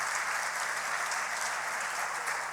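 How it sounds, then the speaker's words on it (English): Audience at a conference opening ceremony applauding, a sustained even wall of clapping from many hands, close and full, with no pauses. "A round of applause, please."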